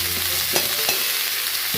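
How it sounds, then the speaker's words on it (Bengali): Finely chopped banana stem sizzling in a pan of hot oil with mustard seeds and turmeric, a steady close frying hiss broken by a few scraping stirs of a spatula. "এবার আমি কেটে রাখা থোরটা দিয়ে দেবো।"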